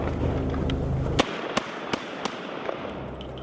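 M1 carbine fired outdoors, five sharp gunshots at roughly even intervals of about a third of a second, following a louder rumbling burst at the start, with no talk.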